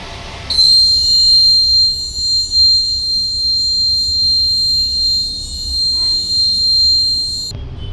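A small battery-powered model train runs on its track in a railway accident prevention demo, a steady close motor whir with a high thin whine that starts abruptly, holds for about seven seconds, then cuts off, with no talking.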